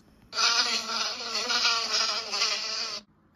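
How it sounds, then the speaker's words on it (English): Buzzing of a fly, a close, steady droning hum starting after a brief pause and holding for under three seconds before stopping abruptly. "A fly goes."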